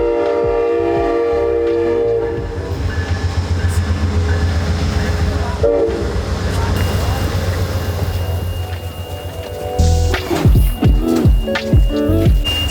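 The Amtrak Floridian passenger train rolls along the rails with a loud, continuous rumble and rattling wheel noise, a horn tone sounding partway through and sharp clanks near the end, with a voice faintly present.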